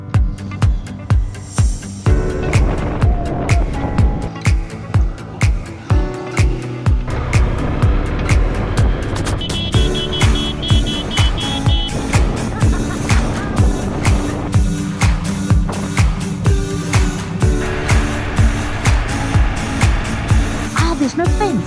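Car driving on a gravel road near Cape Agulhas, with a continuous loud engine and road rumble and rhythmic bumps under frequent talk from people inside.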